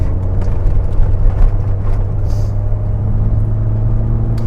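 Interior drone of an Austin Metro car driving on badly rutted, rough roads: a steady low engine and road rumble with a constant hum, continuous and close, with no talk.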